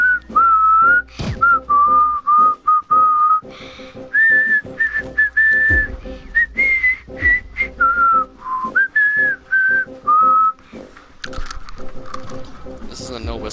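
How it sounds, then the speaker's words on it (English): A person whistles a wavering, bird-like melody of short phrases, close and loud, during gameplay of the online game Trove, with brief gaps between phrases and some noise near the end. "This is a no whistling zone."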